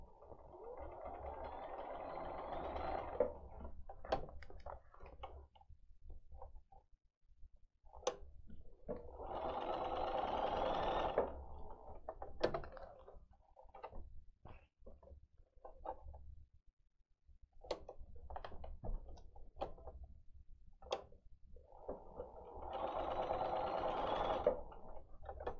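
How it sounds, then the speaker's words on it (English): A sewing machine stitches a template onto layered fabric in three close bursts of rapid, steady whirring, separated by quiet gaps filled with small clicks and handling taps. "I like to sew the template on to the fabric through all the layers and then go back and trim"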